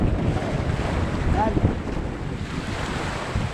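Rough sea waves surge and wash steadily under heavy wind buffeting the microphone, a dense continuous roar with a brief word spoken.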